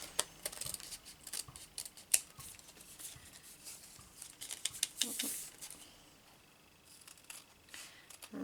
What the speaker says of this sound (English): I do like to cut them as close as possible to the tag and then trim afterwards